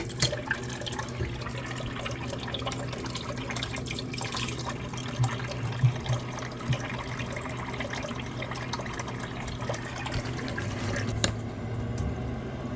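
Water runs steadily from a hot water tap in a home with a Biasi combination boiler, a continuous close hiss with a few faint knocks and clinks, and no talking.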